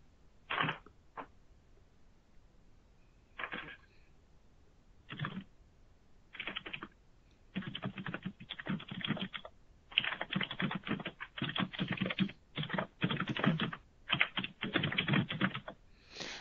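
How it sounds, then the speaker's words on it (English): Keys clatter on a computer keyboard, a few scattered taps at first, then bursts of fast, continuous typing, close and fairly quiet. "I hear some typing."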